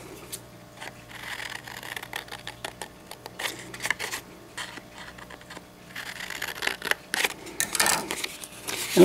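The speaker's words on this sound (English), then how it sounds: "I'm going to cut out this part." Scissors snip through paper while a rocket nose cone is cut out, giving a close series of short crisp cuts and rustles that turn denser and louder toward the end, with no voices.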